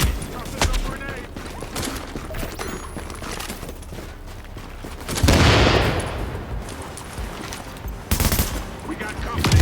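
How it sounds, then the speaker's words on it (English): Heavy gunfire from a firefight in The Division, a PvP survival match in the Dark Zone, with dense bursts of automatic fire throughout. A loud surge of shooting comes around the middle and another sharp burst near the end, with voices shouting over it. "Heavy fire!"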